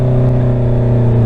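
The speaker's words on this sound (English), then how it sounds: "The exhaust on this bike really changes the game. It sounds so good." Loud motorcycle with an aftermarket exhaust, a close, steady throaty engine drone with strong low harmonics held for about a second without speech.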